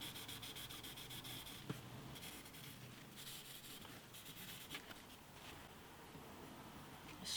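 Steady, close, faint rubbing of fingertip sanding on the wooden body of an antique parlour guitar during restoration, a continuous soft scratchy hiss with one brief knock partway through.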